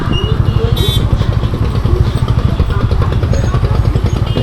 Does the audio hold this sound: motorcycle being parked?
yes